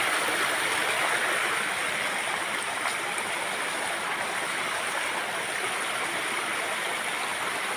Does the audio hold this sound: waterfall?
yes